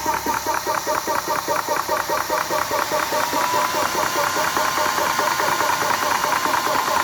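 A Warrior electric water pump with a reworked control module runs steadily, giving a dense, rhythmic mechanical pulsing and rattle throughout, close and fairly loud, with no voices.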